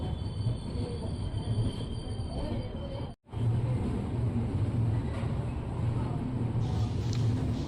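A Mysore–Ajmer express train pulls into platform 3 at Arsikere Junction. A continuous heavy rumble of rolling carriages mixes with faint wheel squeal and cuts out briefly midway, heard from on board.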